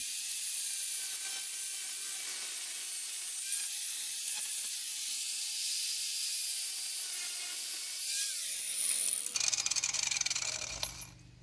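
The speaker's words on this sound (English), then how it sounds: "and then weld it on." Metal is welded onto a part for a homemade motorcycle quick shifter. A steady, close crackling hiss runs for about nine seconds, then gives way to short clattering sounds as it ends.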